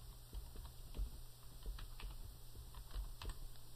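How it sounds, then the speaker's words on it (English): Computer keyboard typing, a short run of soft, irregular key clicks at close range over a steady low hum, with no voices. "so I'm going to type that in."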